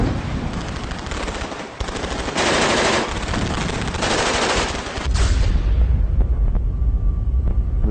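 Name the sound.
machine gun fire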